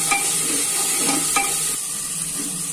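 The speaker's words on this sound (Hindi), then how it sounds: "मसाला जो है हमारा थोड़ा सा फ्राई हो चुका है," Garam masala frying in a pan for white pea chole, giving a steady close sizzle with a few light spatula scrapes and stirring knocks.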